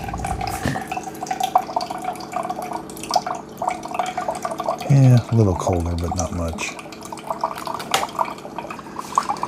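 Water runs from the cold side of a Keurig K-Brew+Chill coffee maker, a steady stream with drips that runs throughout, with a louder burst of dispensing midway, while people talk over it.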